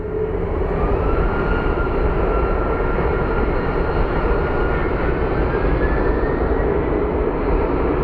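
Jet airplane at Phoenix Sky Harbor International Airport, a loud, steady engine roar that holds close and constant throughout, with a faint rising whine drifting above the rumble.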